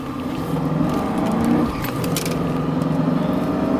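A Mercedes S500 W140 accelerates on a test drive, its engine a steady, close drone that briefly stumbles with a slight cough before carrying on at an even pull.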